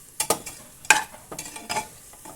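Onions fry in a pan for ghee rice, with several quick scraping stir strokes at an irregular pace over a faint sizzle, close and fairly loud.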